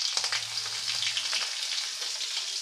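Curry leaves, green chili and asafoetida frying in hot oil for an orange skin pachadi set off a bright, steady sizzle with fast crackling spatters, close and loud throughout.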